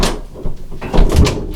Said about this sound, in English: the door opens and closes, no problem.